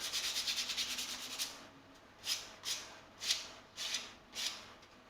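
Plywood edges of a cookie tin ukulele sanded by hand: a fast run of rapid short rubbing strokes, then five slower, separate scratchy passes, close and clear with no talking.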